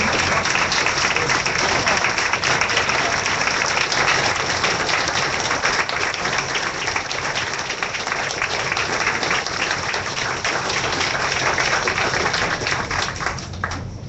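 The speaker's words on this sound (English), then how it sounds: "Let's give her one more round of applause, shall we?" A long round of audience applause for a guest speaker, the Irving mayor, at a meeting, dense and loud, sustained evenly throughout and easing slightly at the very end.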